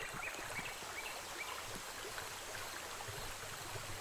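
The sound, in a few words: waterfall ambience in a Dreams video game level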